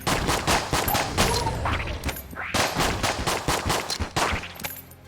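Enemy gunfire in Enter the Gungeon: a dense, rapid barrage of overlapping arcade-style shots rattles steadily and loudly throughout, with little pauses and a few whooshing projectile sounds mixed in.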